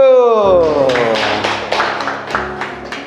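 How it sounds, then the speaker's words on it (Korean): Students in an English class give a round of applause, a burst of claps that begins after a sustained voice and continues in uneven, close taps and claps that gradually thin out. "자, 박수!"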